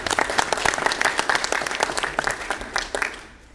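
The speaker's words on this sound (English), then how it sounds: "round of applause there, please" A crowd at a township board of education meeting breaks into a round of applause, with sharp, close claps in a lively, uneven rhythm that trails off toward the end.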